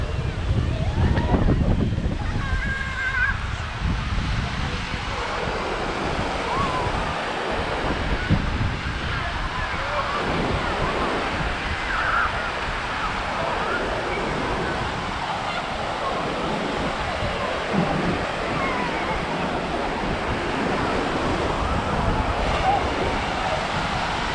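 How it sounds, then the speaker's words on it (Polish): Steady wind buffets the microphone over rolling Baltic surf on Biała beach, Krynica Morska, Poland, a constant roaring wash that lasts throughout. "Trochę dzisiaj wietrznie."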